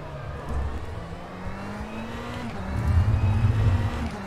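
A race car engine howls around the Spa circuit in the rFactor 2 racing simulator, a loud steady drone that swells near the end as the revs climb.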